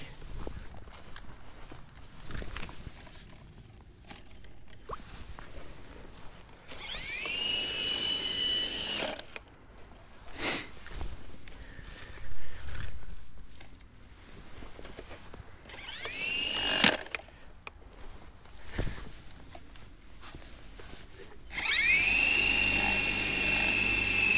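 Cheap toy RC helicopter from AliExpress on a weak battery, its small motor whining in short high-pitched bursts that spin up and stop, separated by quieter stretches of handling noise.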